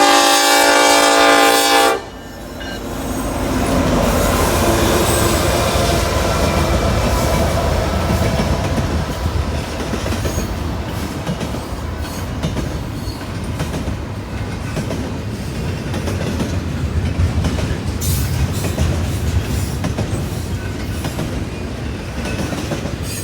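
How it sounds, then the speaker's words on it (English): A freight train led by an SD70ACE locomotive blasts a loud, sustained horn, then rolls past close by with a continuous heavy rumble and clattering wheels that persists for the rest of the stretch. "This one snuck up on us. Love that horn. SD70 ACE on the lead."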